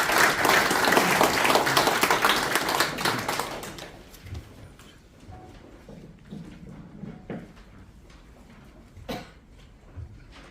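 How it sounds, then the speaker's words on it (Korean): Applause from an audience at a retired generals' association general meeting, welcoming a speaker to the stage. It's dense and loud for about four seconds, then thins to scattered claps and low room noise. "큰 박수로 맞이해 주시면 감사하겠습니다."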